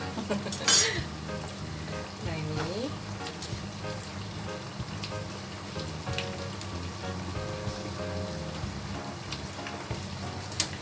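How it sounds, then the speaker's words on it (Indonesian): Food sizzles and crackles steadily in hot oil, a dense bubbling hiss with occasional sharper pops and light clinks. "ini kita goreng sampai permukaannya crispy"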